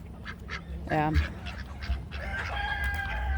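Chickens cluck nearby as they scratch over wet, sandy ground on a cold, rainy farmyard day. A rooster-like crow rises midway among the steady clucking.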